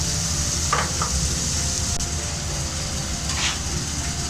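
Mango pulp and sugar simmering in a pan gives a steady, soft sizzle with faint stirring scrapes, a constant low bubbling texture and no speech.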